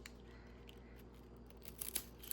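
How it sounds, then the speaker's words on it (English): Scissors snip through pine needles for coiled basketry, a few quiet light cuts in a hushed room. "So I know that I can cut these off"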